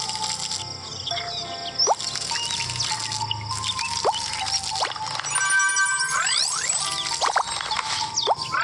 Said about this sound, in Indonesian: Kita siram pakai air.